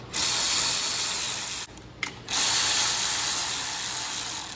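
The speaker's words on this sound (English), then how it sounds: "Now I'm going to run these in a little bit with my ratchet." Hand ratchet running in bolts on a Kohler Courage small engine during an oil leak repair, a loud continuous clicking ratchet close up, pausing briefly around the middle before resuming steadily.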